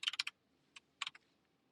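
Keystrokes on a computer keyboard while entering a short heading in web page code: a quick burst of four close clicks, a single tap, then another short cluster, fairly faint and alone in a quiet room.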